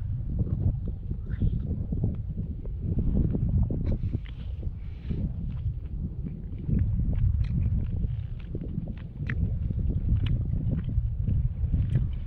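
Blustery wind at Egypt Bay on the Thames Estuary, Kent, buffeting the microphone with low rumbling gusts throughout, loud and continuous, with faint scattered clicks and no talk.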